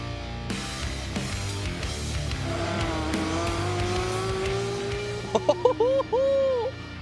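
A sports car engine revs and roars past at speed on a track, pitch climbing through gear changes, with tire squeal and a few brief yelps near the end.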